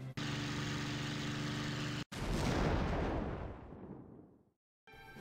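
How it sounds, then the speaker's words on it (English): A V1 flying bomb shot up with aircraft guns in IL-2 Sturmovik 1946 bursts in a loud, close blast after a roar of engine and gunfire, the explosion rumbling and slowly fading to silence before a brief return of noise. "sometimes when you try and destroy the V1 with your guns, obviously it's carrying a very high explosive, so it can explode"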